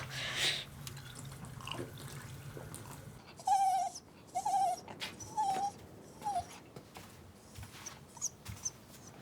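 A dog whimpers in a quiet indoor room, a series of four or five short, high, whiny cries with pauses between, soft and close, no talking.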